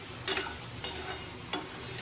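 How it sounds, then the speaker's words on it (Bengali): Peas and spices are sautéed in a pan, giving a soft steady sizzle with a few brief scrapes of a stirring spoon, quiet and close. "মটরটা দিয়ে ভালো করে কষিয়ে নিতে হবে"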